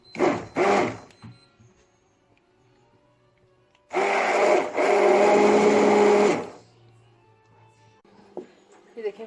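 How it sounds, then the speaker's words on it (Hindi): An electric hand beater runs in a pot of cooked lentils for mutton haleem, a loud steady motor whir lasting about two and a half seconds, preceded by brief knocks and clatter. "अब मैं इसके अंदर ये बीटर है ये इसके अंदर मैं करूँगी।"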